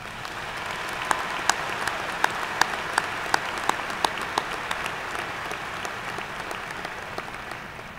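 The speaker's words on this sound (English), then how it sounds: "Let's give Ashley a warm round of applause." A commencement ceremony audience applauds steadily, a dense wash of clapping from a large crowd in a hall, with a few sharper individual claps standing out near the front and the sound holding level throughout.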